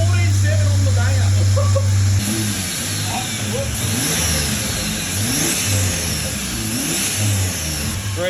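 A turbocharged Ecotec engine in a Ute drift car runs loud and close, idling roughly before revving up with rising and falling pitch sweeps, while people talk nearby.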